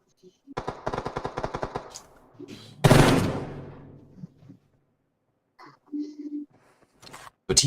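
Sniper and rifle fire in a PUBG tournament match: a fast run of sharp, evenly spaced shots, then one loud, heavy blast that rings out and fades, followed by a few scattered quieter reports and brief noises.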